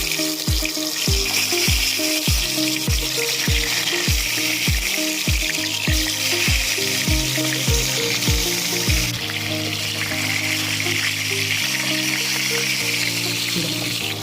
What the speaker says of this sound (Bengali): এবার বেগুনগুলোকে এক এক করে ভেজে নিচ্ছি।